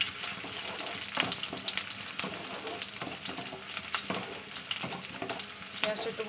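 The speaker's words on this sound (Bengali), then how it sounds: "চলুন তেল গরম হয়ে গেলে পেঁয়াজটা দিয়ে দিলাম।" Onions sizzling and frying in hot mustard oil in a home kitchen pan, a steady loud crackle broken by sharp stirring scrapes, with no talking.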